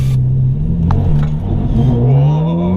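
A Ferrari sports car accelerates away from a green light, its engine rising from a low rumble to a loud, steady climbing drone heard from inside the cabin, with no voices.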